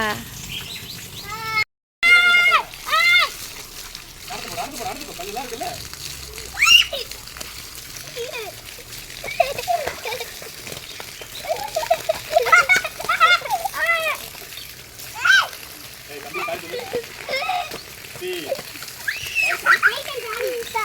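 Children shout and play while water splashes in a motor-filled tank at a farm house, with bursts of kids' voices and intermittent splatter throughout, birds faintly in the background.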